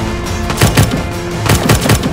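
Gunfire in a war drama scene, two loud clusters of rapid shots, close and punchy, over a noisy battle background with no talk.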